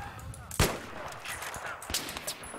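Gunfire in the shooter game Battlefield 3: a sharp, loud shot at about 0.6 s and a second at about 1.9 s, with lighter reports over a busy battlefield backdrop.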